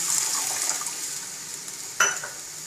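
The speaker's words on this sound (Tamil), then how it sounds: "ஒரு 1/4 டம்ளர் தண்ணி சேர்த்துக்கணும்." Water is poured into a pan during cooking of a cabbage fry with soaked moong dal, a faint continuous trickling with a brief louder splash near the end.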